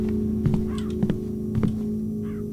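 A bird in the Shadows Peak video game caws in short repeated bursts, about four loud clustered calls over a low steady ambient drone with faint background chatter.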